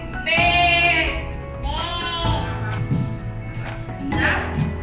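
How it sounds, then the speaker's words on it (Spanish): A sheep bleats several times in wavering, drawn-out calls, loud and close, separated by short pauses. "Y la oveja hace be."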